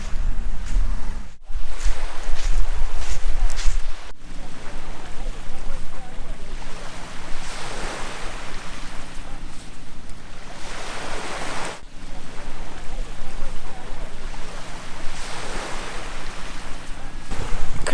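Waves and wind at a beach give a steady rushing wash with slow surges of surf rolling in every few seconds, wind noise rumbling on the microphone throughout.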